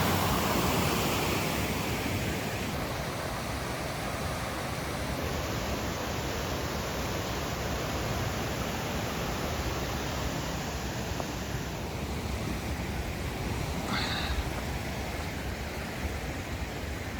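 A flowing stream on the Appalachian Trail, the Niso Wadnichuk, rushing in a steady, dense wash of water that stays close and unbroken throughout.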